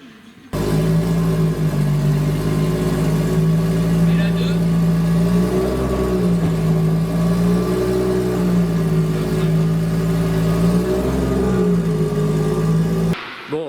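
Nissan S14 engine idling steadily, its low tone wavering slightly as the revs drift, loud and close. A faint voice is heard briefly over it, and the engine cuts off near the end.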